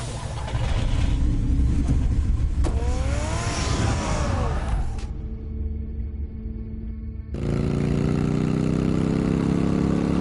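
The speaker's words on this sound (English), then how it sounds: "Get the car ready, Alfred." A car engine in Telltale's Batman video game revs loudly with rising and falling pitch sweeps, then briefly drops to a quieter idle before roaring up again, steady and close, with no talking.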